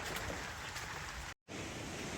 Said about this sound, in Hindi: अभी भी हल्की हल्की बारिश हो रही है।